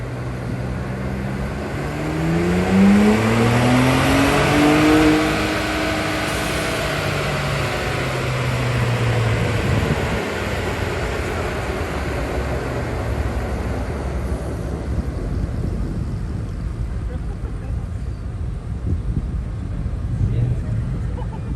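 A Ford Mustang GT350 tuned to 1,100 hp roars on a dyno, the engine note climbing steadily through a long pull before easing off into a lower hum, loud and close, with people talking over it.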